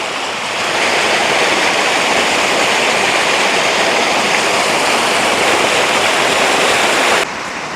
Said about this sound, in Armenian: Ջուրերը, որ ամեն ինչ արժեն, ջրվեժ, փոքրիկ ջրվեժ։